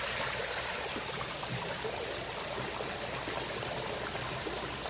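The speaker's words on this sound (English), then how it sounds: "look at that water blowing through these little guys" Water jetting through the small nozzles of a backyard water feature being purged, a steady dense hiss and splashing rush close by, unbroken throughout and without speech.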